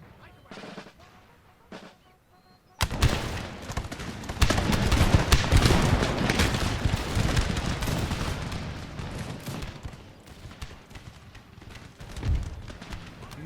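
Infantry musket volley in Empire Total War at a pirate stronghold battle: a sudden loud crackling burst of many shots followed by a long rolling rattle of scattered fire and battle noise fading out.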